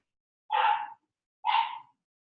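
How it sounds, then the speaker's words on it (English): A dog indoors gives two short, separate barks about a second apart, fairly close and clear against a silent room. "let me know if my dog gets too distracting"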